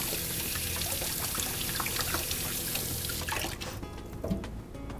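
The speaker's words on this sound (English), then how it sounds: "I just rinse my hands." Tap water runs steadily over hands being rinsed at a kitchen sink after messy avocado prep, a continuous close splashing stream that thins out near the end.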